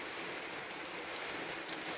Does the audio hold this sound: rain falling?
yes